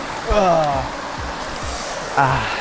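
A waterfall and flowing stream in the Wichita Mountains make a steady broadband rush of water close by, with a person speaking over it.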